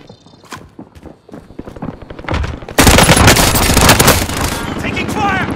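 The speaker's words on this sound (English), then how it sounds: "Taking fire!" Call of Duty Warzone gunfire starts as scattered sharp shots, then erupts into loud, dense automatic bursts that carry on to the end, with footsteps and a voice beneath.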